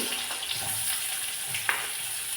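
Red onions fry in oil with mustard seeds, a soft continuous sizzle broken by a few faint pops and crackles from the spluttering seeds.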